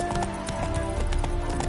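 Hooves of a horse clip-clopping in the video game Witcher 3, a steady close rhythmic gait over a soft game music bed, with no speech.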